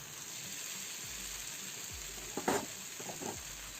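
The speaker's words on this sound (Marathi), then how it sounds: "तवा गरम झाला की त्यावर थोडंसं तेल टाकून तेल पसरवते। आता यावर मी हे थालीपीठ अलगद असं सोडणार आहे।" A fasting-style thalipeeth dropped onto an oiled hot griddle sizzles quietly, a faint steady frying hiss with a few soft bumps as it is placed.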